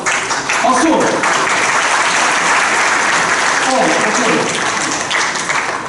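A large audience of about 250 trainees at an education session applauds, a dense, loud wash of clapping that fills the whole stretch without letting up.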